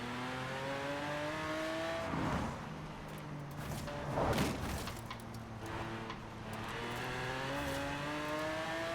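A car on racing tires accelerates in third gear in Forza Horizon 4, its engine revving loudly and climbing steadily in pitch through several gear changes, with a gruff roar during the shifts.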